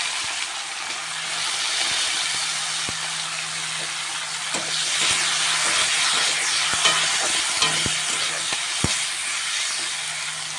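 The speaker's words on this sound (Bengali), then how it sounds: "কড়াই ওই তেলেতে বিনসগুলো দিয়ে দিচ্ছি, দিয়ে ভেজে তুলে নেবো।" Green beans frying in hot oil in a wok give a steady broadband sizzle throughout, with scattered sharp clicks and pops over a faint low hum, no voices.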